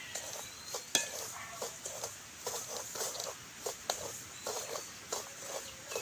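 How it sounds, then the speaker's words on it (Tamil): Semolina (rava) roasting dry in a pan is stirred steadily, giving soft scraping and light patter strokes at an irregular rhythm, quiet and close, with no talk. "இப்படியே கிளறி கொண்டே இருக்கணும்."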